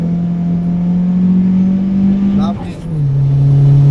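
A Nissan 200SX with an SR20DET engine pulls uphill under load, its steady low drone holding for a few seconds before a brief dip and a thump-like shift, then settling again into a slightly lower note.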